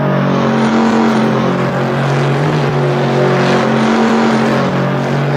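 Small block Euro car engine in the Assetto Corsa racing game, a loud continuous engine roar with steady harmonic tones that rise and dip slightly across the stretch, no talking.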